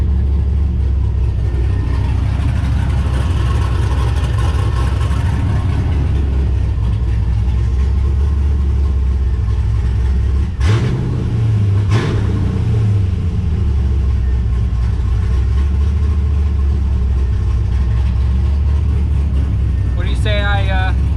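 A 1969 Camaro with a cammed LS engine swap running in a garage: a loud, rumbling idle throughout with a brief rev partway through, then a steady lumpy drone.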